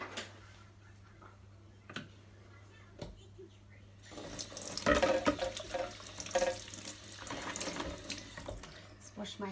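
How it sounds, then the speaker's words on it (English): Tap water runs into a sink for hand washing in a home kitchen, starting suddenly partway through as a close, steady splashing rush after quieter ticking sounds. "Wash my hands in between."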